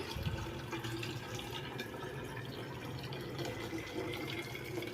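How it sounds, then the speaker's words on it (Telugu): Water runs steadily into new water bottles, a continuous close rushing splash with no pauses. "బాటిల్స్లో అయితే వాటర్ పడుతున్నానండి."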